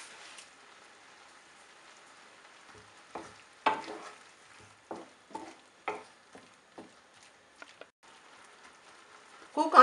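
Sliced mushrooms cook in a pan with a faint, sparse sizzle and a few louder clicks and crackles of stirring, the bursts irregular and close, ending in a stronger scrape.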